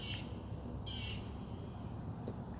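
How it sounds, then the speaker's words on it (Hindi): Birds calling outdoors in pleasant weather: a few short squawking calls stand out over a steady low background hum, fairly faint and with no talking. "इतना बढ़िया मौसम है, पक्षियों की आवाज़ है।"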